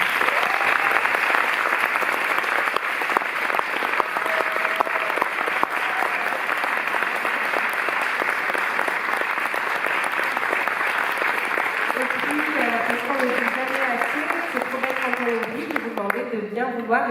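Audience applause for the musicians at a drawn concert at the Palais de la Porte Dorée, steady dense clapping sustained for most of the stretch; near the end a melodic voice or instrument rises under the fading clapping.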